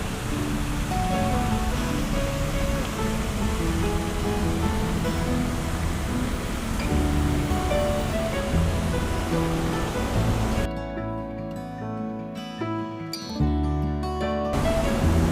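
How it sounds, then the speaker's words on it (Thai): Waterfall at a scenic Thai outdoor spot, a dense, continuous roar of rushing water filling the whole clip at steady loudness, with some fainter tonal background sounds mixed in near the end. "ด้านขวามือก็เป็นน้ำตกครับ"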